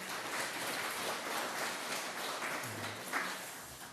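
A congregation in a church service applauds the pastor: steady, moderate clapping from a crowd that carries evenly through the whole moment, heard at a slight distance.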